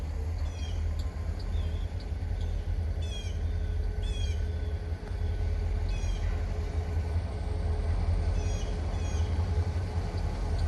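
An eastbound empty rock train with grain cars crosses a bridge, a steady low rumble holding for the whole stretch while birds chirp in bursts above it.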